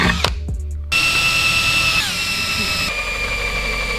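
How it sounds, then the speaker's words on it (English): A power drill bores holes in the trunk lid of a Subaru WRX to mount an STI wing, whining loudly and steadily at close range, its pitch shifting as the load changes. "So we got all the holes drilled."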